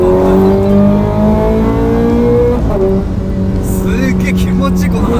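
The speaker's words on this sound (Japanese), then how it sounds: "エンジンのこのやっぱ近さと、あとはこのフェラーリの洗練されてる V8 というか、 振動がこれもろに伝わりますよね" Ferrari 430 Scuderia V8 revs steadily from inside the cabin while driving, a loud, close, sustained engine drone with rising and falling pitch through a gear change, with voices talking underneath.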